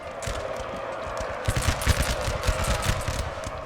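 Massed musket volleys in a Napoleon Total War battle with Bavarian forces, a distant crackling fusillade that thickens into rapid overlapping shots halfway through.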